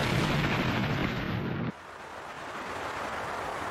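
Mount St. Helens erupting, a loud, dense roaring blast that rumbles heavily for over a second and then cuts to a quieter, lingering hiss.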